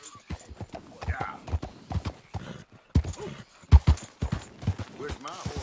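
Horse hooves clip-clopping in Red Dead Redemption 2, an uneven run of close, sharp knocks with someone speaking quietly over them.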